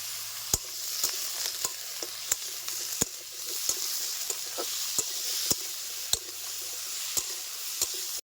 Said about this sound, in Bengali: মাছ ভাজা তেলে আমি সবজিগুলিকে হালকা বেজে নেব